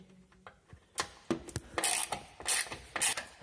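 A compact ratchet turns screws out of trim on an Opel Vectra C, giving several quick bursts of clicking pawl strokes at close range with no talking.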